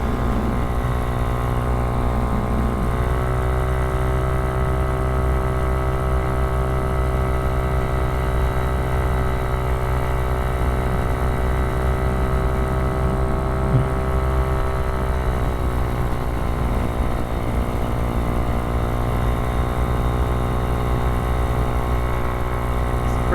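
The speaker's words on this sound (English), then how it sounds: "Cruising on the bike." Honda Ruckus scooter with a swapped 171cc engine cruising, a steady loud engine drone with a continuous buzzing tone that shifts pitch slightly at a few points, no talking.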